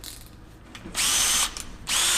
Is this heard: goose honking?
no